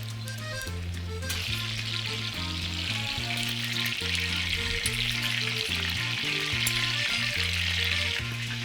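Duck meat sizzles and fries steadily in a hot pot, a continuous crackling hiss, with a low melodic tune playing underneath throughout.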